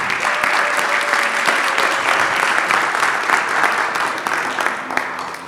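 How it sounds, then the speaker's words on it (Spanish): A seated audience at a talk on autism bursts into warm applause, steady crowded clapping with a few sharper individual claps standing out, easing off slightly at the end. "Un fuerte aplauso"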